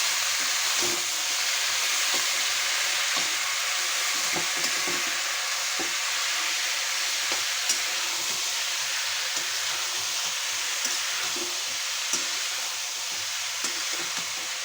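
Taro (kochu) pieces fry in a pan for a kochu shak bhaji, a constant crackling sizzle with occasional sharp pops and stirring clicks and no talk.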